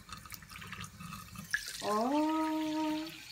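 Lukewarm water runs from a tap into a measuring jug to soften yeast for bread rolls, a brief splash and then a steady rising stream for about a second and a half at close range.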